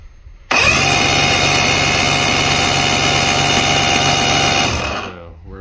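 A Mercury outboard engine fires up abruptly and runs at a steady, loud, buzzing drone close by for several seconds, then winds down and cuts off during a timing check.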